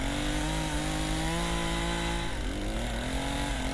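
Chainsaw in a Backrooms video game, a loud, close, continuous buzzing engine whine that holds steady, then drops and wavers in pitch partway through.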